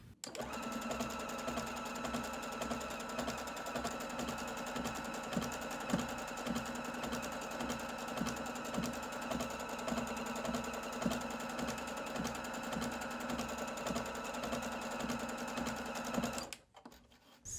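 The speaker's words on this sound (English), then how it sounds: "Now start sewing." A Juki HZL70-H sewing machine stitches a blind hem in a fast, steady mechanical whir with a regular needle tick, close and alone, stopping abruptly near the end.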